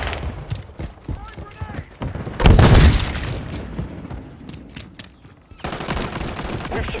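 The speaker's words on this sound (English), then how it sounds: "Throwing flash grenade." A flash grenade goes off with a sharp, loud blast in a Call of Duty: Modern Warfare 3 deathmatch, set among nearby gunshots and a burst of automatic fire, with in-game voices calling out.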